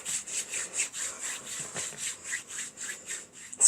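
Friction-fire hand drilling with a kiwi spindle on a weeping willow board, a close, rhythmic rasping of wood on wood that pulses roughly five times a second with each back-and-forth stroke and builds slightly at the end.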